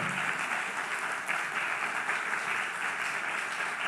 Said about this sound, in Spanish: Denle un aplauso fuerte ahora sí al Señor.